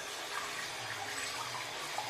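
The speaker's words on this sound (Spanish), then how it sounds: "Y el agua va fantástico." Water rushes steadily through a drain pipe just opened after being unclogged with a cable auger and acid, a continuous broadband hiss and gush heard close and alone.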